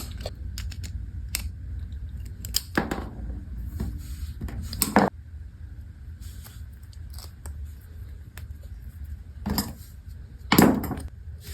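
Small scraping and clicking sounds come from an old gasket being pried off the bonnet nut of a multi-turn shut-off valve. Brief sharp scrapes sit over a low steady background hum.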